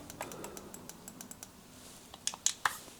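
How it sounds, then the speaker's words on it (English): Clicky buttons on a GameSir G7 Pro controller pressed by hand, a quick run of light, close taps ending in a few sharper, louder clicks. "they're definitely more clicky than these ones."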